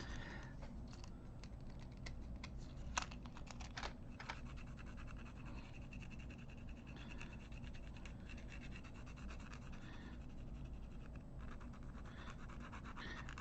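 A weathering pencil dry-brushed across a model surface gives a soft, steady scratchy rubbing that keeps going close up and quiet, with a few sharper scrapes along the way.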